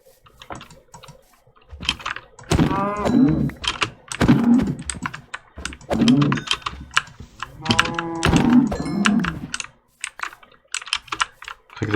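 Minecraft cows give several drawn-out moos over about ten seconds, mixed with keyboard typing and clicking in the background.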